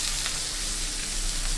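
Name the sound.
pomfret fish frying in a pan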